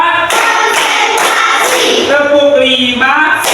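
Schoolchildren in a classroom clap in a group rhythm routine, with several crisp claps spaced through the passage over loud children's chanting and voices.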